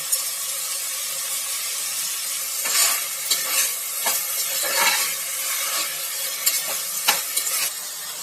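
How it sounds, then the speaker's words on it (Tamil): Vegetables sauté in oil and ghee for veg pulao, a steady close sizzle broken by repeated scraping stirs of the spoon against the pan, loud and without talk. "காய் இப்போ கொஞ்சம் வதக்கி விடுவோம் அந்த எண்ணெய் நெய்யிலேயே ஒரு அஞ்சு நிமிஷம் வேகட்டும்"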